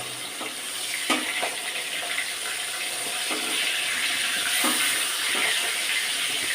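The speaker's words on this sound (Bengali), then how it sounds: "প্রথমে তেলেতে মাছগুলোকে ভালো করে ভাজতে হবে বন্ধুরা।" Boneless rohu fish frying in hot oil in a home kitchen, a steady loud sizzling hiss with occasional crackles and pops, close and continuous, no talking.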